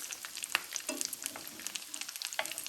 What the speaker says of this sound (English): Make sure to fry on each side a minimum of at least 3 minutes before turning